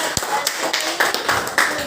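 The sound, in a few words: children clapping for a classmate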